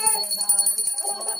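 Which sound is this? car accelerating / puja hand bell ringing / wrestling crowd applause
puja hand bell ringing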